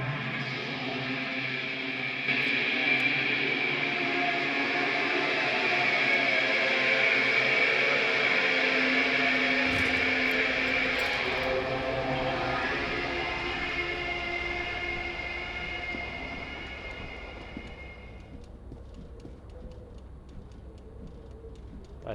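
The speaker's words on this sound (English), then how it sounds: "The sound outside. You recognize it. It's a Caprice Canela motor carriage." In the video game Disco Elysium, a Caprice Canela motor carriage engine rumbles and whines outside, swelling then fading away, with a faint ticking underneath.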